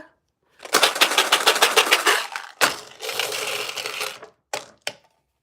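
Dice shaken hard in a cup or hand produce loud, dense rattling clatter in two long bursts, followed by a couple of short sharp knocks as they settle, all close and without talk.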